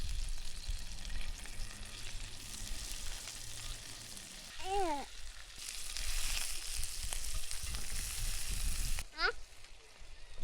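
Sausages frying in butter in a pan, a steady low sizzle and crackle throughout, with a child's brief squeal and a short high voice near the end.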